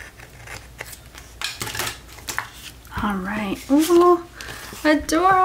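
Scissors trim a paper vintage Christmas postcard with several short, close snips and crisp paper rustles, and a person speaks over the later cuts.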